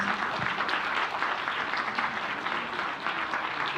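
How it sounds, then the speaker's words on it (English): Dense, sustained applause from a large audience at a Philippine presidential event, many hands clapping together in a loud, even roar that holds steady without pause. "a big round of applause to our President."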